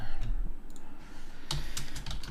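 Quick keystrokes clatter on a computer keyboard during programming work, a brief burst of clicks at close range, then a second cluster after a short pause.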